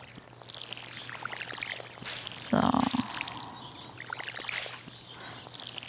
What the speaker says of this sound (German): Dann erstmal eine Runde Pflanzen wässern.